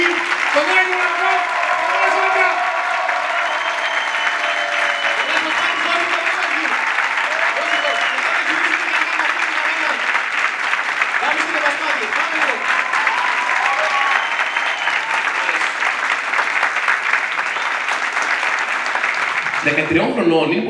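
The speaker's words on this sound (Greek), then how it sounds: "με το 3 θέλω ένα τεράστιο χειροκρότημα για να βοηθούμε τη σκηνή" A studio audience claps on cue to help a Greek comedy stage scene, a long, loud, sustained burst of crowd applause with voices faintly mixed in, cutting off abruptly near the end.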